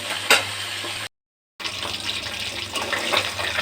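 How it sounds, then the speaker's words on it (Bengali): Fish frying in a pan for a fish-and-bean curry, a steady close hiss of hot oil that breaks off briefly into silence before resuming. "প্রথমে আমি মাছগুলি"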